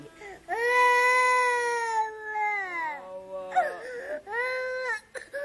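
A baby wails loudly in long, sustained cries with a brief break, then resumes, close to the microphone while an adult speaks softly in between.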